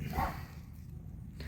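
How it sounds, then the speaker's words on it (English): A dog gives a single short bark, fairly faint and somewhat distant, followed by quiet room tone. "Sorry about the dog barking."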